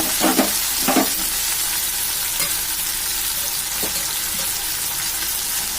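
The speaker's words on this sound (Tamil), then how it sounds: "தக்காளி, இஞ்சி பூண்டு பேஸ்ட் நாம வதக்கிக்கணும்" A pan of tomato and ginger garlic paste sautéing in oil for a lentil-ball kuzhambu, with a loud continuous sizzle and a few sharp spoon scrapes and clatters near the start.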